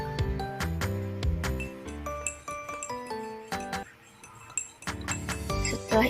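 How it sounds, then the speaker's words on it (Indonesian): A spoon stirs lime juice, honey and water in a glass, giving a quick run of bright clinks and tinkles against the sides, close and fairly quiet, with a short pause partway through. "Kemudian aduk sampai madu dan air rasan jeruk nipisnya menyatu."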